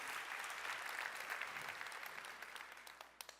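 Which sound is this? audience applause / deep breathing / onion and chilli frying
audience applause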